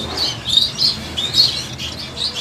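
Bengalese finches chirping close by in a busy string of high, quick tweets with no pauses, under no talk.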